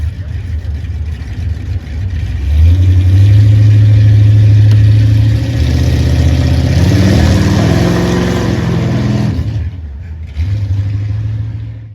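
A white Plymouth Superbird with a psychedelic 1970s paint job runs down a drag strip, its engine rumbling low, then swelling into a loud, rising roar before easing off and picking up again.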